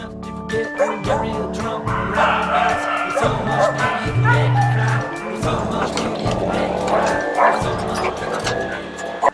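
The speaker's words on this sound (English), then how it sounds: "El Faro de los Animales, or the Animal Lighthouse, which is a safe haven for over 100 Sato dogs." Many rescued Sato dogs at an animal sanctuary in Humacao, Puerto Rico bark and yip together in a loud, continuous chorus with crowd-like background noise.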